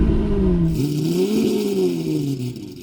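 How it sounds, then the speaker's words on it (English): A Lamborghini Aventador LP700-4 V12 fires up from cold with a loud bark and flare of revs, then settles into a steady, deep, near idle that wavers slightly in pitch. "So what I'm going to do now is cold start each of these Aventadors, starting with the original one."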